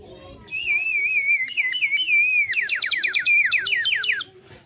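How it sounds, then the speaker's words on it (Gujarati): A water-filled toy bird whistle warbles close by like a sparrow, a wavering high tone that breaks into quick repeated chirps before stopping abruptly. "આની અંદર પાણી ભરીને વગાડવાથી બહુ મસ્ત અને યુનિક આઈટમ આવી છે"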